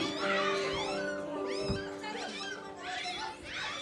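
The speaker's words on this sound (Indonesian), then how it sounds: "Ada bunyi kucing." A cat meows repeatedly in rising, wavering cries, fairly close and loud, with a low thump midway and faint background hum.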